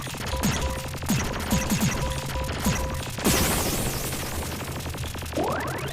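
Bombs exploding in a video game, a rapid series of sharp bursts and crashes with a larger blast midway, followed by rising synthetic chirps near the end.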